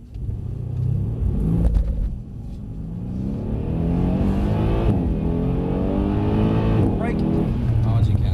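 Mercedes-Benz C63s pulling hard at full throttle on a driving-experience course, its engine rumbling and rising through climbing revs heard from inside the cabin, with people talking over it.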